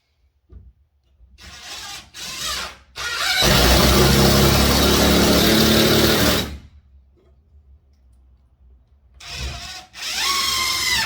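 A power drill drives screws into a TV wall bracket: short whirring bursts, then one long sustained run of several seconds, and two more bursts near the end, loud and close with no talking.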